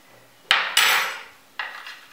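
A spoon mixing melted chocolate and oil in a bowl gives three brisk, close scraping strokes against the side, separated by short quiet gaps, with no talking.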